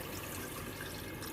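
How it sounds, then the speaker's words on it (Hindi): Water is poured from a glass into a pot of Lahori haleem with tomatoes, which is cooked without a pressure cooker. The pour is quiet, soft and continuous, with no talking over it. "मैं 3 ग्लास पानी डालने लगी हूँ क्योंकि मैं प्रेशर कुकर नहीं यूज़ कर रही हूँ।"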